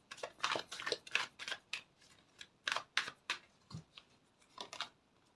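Tarot cards being shuffled by hand, a quick run of crisp, papery riffles and taps in irregular bursts, close and fairly quiet with brief gaps between them.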